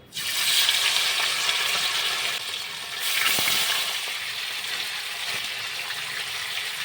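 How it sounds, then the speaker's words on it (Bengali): Chicken pieces fry in hot white oil with two bay leaves, giving a steady, loud, close sizzle that holds throughout with a brief dip partway. "তেলটা গরম হয়ে গেছে আমি চিকেনগুলো একটু ভেজে নেবো"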